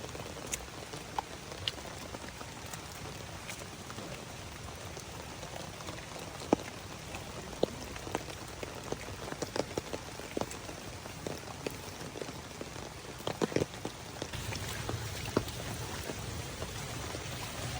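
Steady rain patters densely on surfaces outdoors among cacao and calamansi seedlings, a continuous close hiss broken by scattered louder drops, with no voices.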